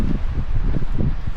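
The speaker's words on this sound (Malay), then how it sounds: "Lepas tu angin dia sangatlah kuat walaupun matahari ni terik" Strong cold winter wind in Korea buffets the microphone in heavy, irregular low rumbling gusts, loud and close, with no speech.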